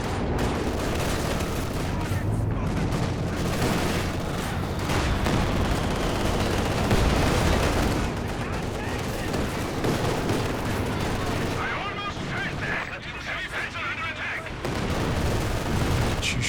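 Machine gun fire and other gunfire in a Company of Heroes 2 match, dense and continuous with booms and battle noise layered throughout, while a commentator talks over it.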